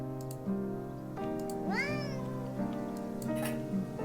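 Cat meowing in a video game, several clear meows including one long, rising call in the middle, set over soft tonal background music.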